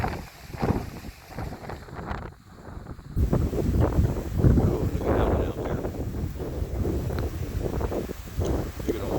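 Strong wind buffets the microphone in a continuous rumble on a Pacific Ocean shore, with surging waves mixed into the roar; a voice talks briefly through the noise.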